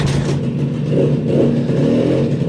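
A Suzuki 50 two-stroke engine runs loud and close with a steady buzzing drone, its revs swelling and easing slightly, with no voices.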